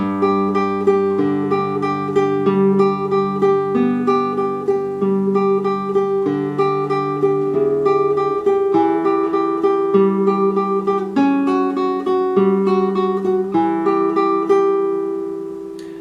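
Slow fingerpicked classical guitar playing Schubert's Ave Maria, single notes and soft chords ringing one after another at an unhurried, even pace, close and clear.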